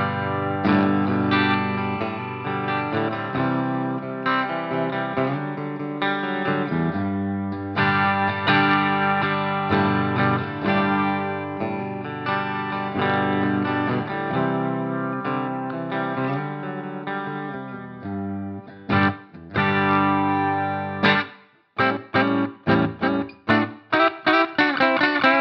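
A Hartwood Charger electric guitar on its bridge pickup, played straight in with a touch of reverb, rings out sustained chords and notes, ending in a run of short choppy strums.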